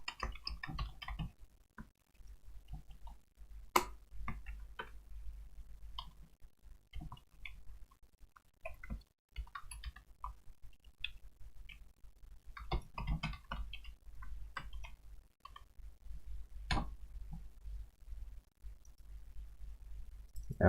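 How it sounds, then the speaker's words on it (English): Light, scattered clicks of someone typing code on a computer keyboard come in sparse bursts and single taps, close and quiet, with no talking. "I'll just go ahead and type that in"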